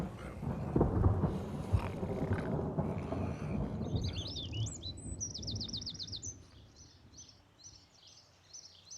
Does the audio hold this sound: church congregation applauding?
no